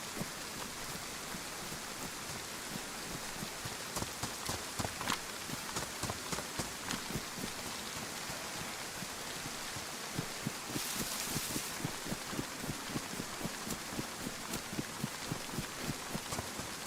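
Rain falls steadily in the DayZ video game, a dense hiss broadened by wind, with regular footsteps crunching through it and a brief louder gust midway.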